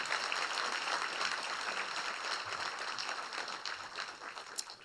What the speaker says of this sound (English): One more Clovis Crush round of applause if you could